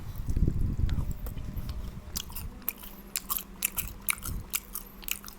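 Crunchy bites into a fried shrimp fritter (gimbal) served with tahu gimbal in Semarang, a loud chewing burst followed by a run of sharp, crackling crunches, close up with no talking.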